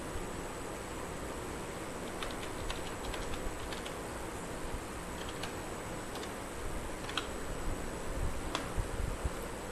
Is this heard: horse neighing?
no